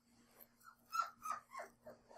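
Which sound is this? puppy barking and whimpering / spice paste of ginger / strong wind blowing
puppy barking and whimpering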